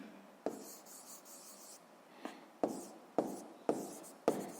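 Pen strokes on paper during a physics lesson: short scratchy bursts of handwriting broken by brief pauses, close and fairly quiet, with the tapping ends of words and marks landing at irregular intervals.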